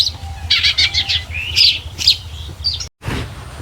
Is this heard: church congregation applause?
no